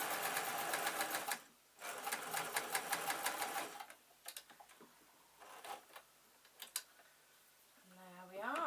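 A domestic sewing machine stitches a zebra-print fleece bootie slipper in rapid bursts, a fast continuous whirring run first, then a pause and shorter intermittent stitching with small clicks, close and fairly quiet.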